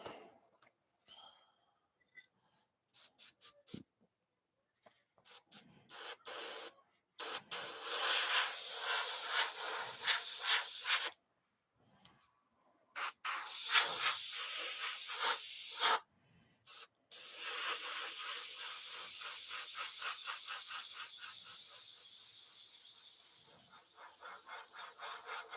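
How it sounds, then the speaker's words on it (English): Air compressor and spray gun painting a sportsman mod body: loud steady spraying hiss in repeated bursts, some short and choppy, then longer continuous runs, with brief silences between. "I'll bring it back, guys, once the air compressor's off."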